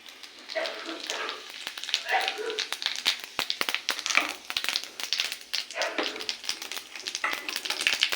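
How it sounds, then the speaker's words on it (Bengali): Cumin seeds hit hot oil in a wok and crackle and sizzle in uneven bursts, with faint background voices. "কড়াইতে তেল দেওয়া আছে, দিয়ে দেবো জিরে ফোড়ন"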